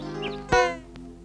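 A single short cat meow, clear and close, against a faint background hum.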